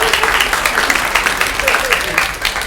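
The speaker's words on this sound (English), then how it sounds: "I get an applause break" Audience applause breaking out during a stand-up comedy set, a dense, steady wash of clapping from a crowd that holds throughout, with a voice faintly mixed in.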